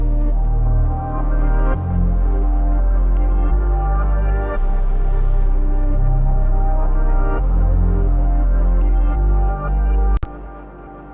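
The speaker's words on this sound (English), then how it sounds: "We could just reverse it and see what it sounds like this way." A reversed music sample plays in a beat, with swelling backward notes over a heavy, loud bass line. It runs continuously and ends in an abrupt cut, with no voices.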